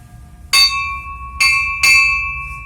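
Three separate strikes of a cracked church bell, each a bright metallic clang with a lingering, slightly buzzing hum that decays between hits.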